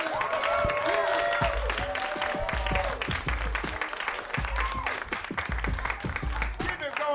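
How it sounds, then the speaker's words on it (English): Comedy club audience gives a comedian a big round of applause mixed with cheers, loud and continuous, with a voice and music-like tones running through it. "One more big round of applause for Jayson Acevedo"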